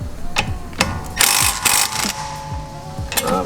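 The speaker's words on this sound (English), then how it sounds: "you need a 12mm to take off this bolt that's on the coilover" A 12mm ratchet loosens a coilover bolt on a 2017 Subaru WRX STI, giving close, crisp clicking pawl strokes in short repeated bursts with metallic taps between them.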